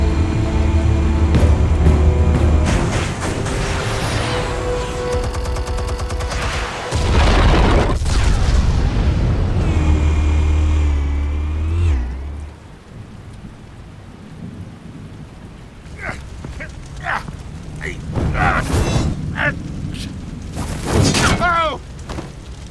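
Explosives detonate in the Batman Telltale video game as heavy, booming blasts with a deep rolling rumble through the first half. Quieter debris and scattered sharp hits follow, with a voice faintly present.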